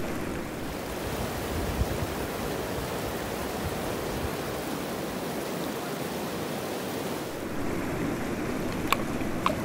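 The South Fork of the American River near Lotus, California, rushing steadily as a broad, constant roar of flowing water, close and unbroken, with a few faint clicks near the end.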